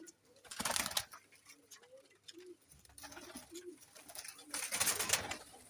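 A flock of about fifteen flying pigeons coo softly in low, rolling calls, repeated again and again close by, with bursts of fluttering or rustling in between.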